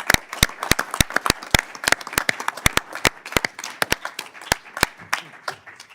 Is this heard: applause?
yes